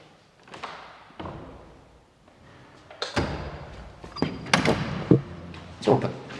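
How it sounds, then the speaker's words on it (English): An actual door opens with a series of heavy thumps, clunks and a sliding rattle, loud and close, in bursts spread over several seconds with no talking. "Is the actual door open?"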